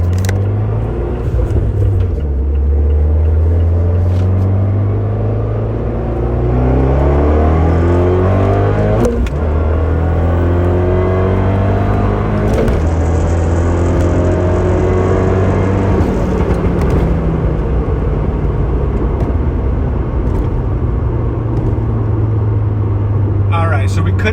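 A Eurocompulsion Phase 3 tuned turbo car pulls hard in hot weather, its engine droning and climbing through several gear changes in a loud, sustained run heard from inside the cabin.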